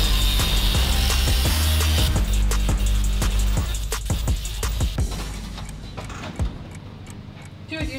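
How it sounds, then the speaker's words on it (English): An angle grinder fitted with a cutting wheel screams loudly up close as it cuts through a nut and bolt during an Airstream trailer renovation, then winds down. Clanks and rattles of metal follow as the grinding fades. "now I'm going to switch to the angle grinder with the cutting wheel and come in from the top and just cut the nut and bolt off from the top"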